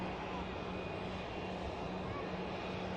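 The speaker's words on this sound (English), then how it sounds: "Jun Yao about to spool up from 2-3 left." A Boeing 787-9 Dreamliner, about five years old, spools its jet engines up for takeoff at Manchester Airport, giving a steady, loud broadband roar with a faint high whine that stays even throughout.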